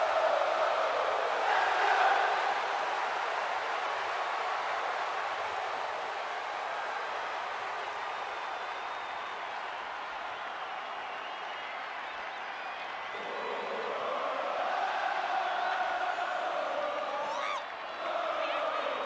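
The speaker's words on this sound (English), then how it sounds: "Listen to the energy in here for Sami Zayn." WrestleMania arena crowd in WWE 2K24 roaring and cheering for a wrestler's entrance, a dense sustained wash of crowd noise that swells and dips, with a commentator talking over it.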